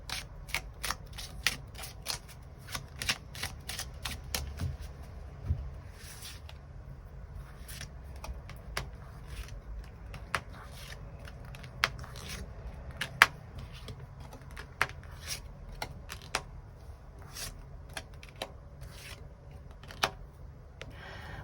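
Tarot cards shuffled and drawn by hand: a long run of crisp, irregular clicks and slaps of card stock, close and fairly quiet, with sharper snaps scattered throughout and no talking.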